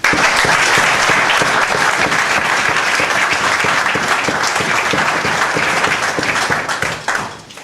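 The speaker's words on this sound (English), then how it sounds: "give a round of applause" Sustained applause from an audience at a father-son camp gathering, dense steady clapping throughout that tapers off near the end.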